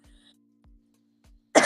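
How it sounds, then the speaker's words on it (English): A single sharp cough bursts out close and loud after a few faint, muffled low thumps in otherwise quiet surroundings. "I got a little cough going on here."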